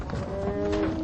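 Cattle lowing in a long, steady moo, close and clear, with several tones layered over a rough background of herd noise.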